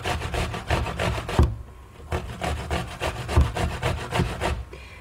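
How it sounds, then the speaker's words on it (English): A washed, unpeeled organic apple is rubbed against a grater in quick rhythmic rasping strokes, close and fairly loud, with a short pause between two bursts of grating. "And now I grate an apple."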